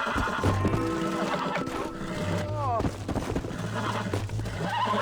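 A horse whinnies loudly partway through, amid hoofbeats, a steady low drone and people talking over the scene, in the video game Red Dead Redemption.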